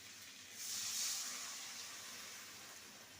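Water poured into a hot pan of frying raw tomatoes bursts into a loud steamy hiss about half a second in, then settles into a steady, fading sizzle.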